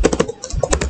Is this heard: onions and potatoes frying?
no